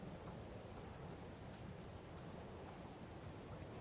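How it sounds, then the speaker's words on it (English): Rain in the video game Farming Simulator 22 makes a steady, dense hiss of falling water with no clear breaks, faint and even throughout. "It's raining"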